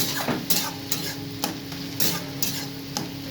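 Fish curry with tomato is stirred in a frying pan, a spoon scraping in regular strokes about every half second over a steady, quiet sizzle.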